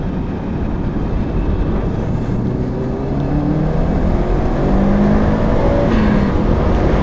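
A Subaru GC8 STI engine drones loudly from inside the car while driving downhill in Japan, with a steady low rumble and gradual rising pitch sweeps as it pulls through the gears, no talking.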